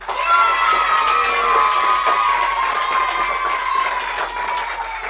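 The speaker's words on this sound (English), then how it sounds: "your applause for the pot roast team" An audience, children's voices among it, claps and cheers for the pot roast team in a nursery-rhyme contest, a continuous roar of shouting and applause that stays loud throughout.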